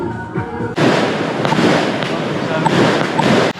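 Fireworks explode in a sudden loud burst at night in Koh Samui, Thailand, followed by a dense continuous crackle and popping that fills the rest of the moment, with a few voices faintly mixed underneath.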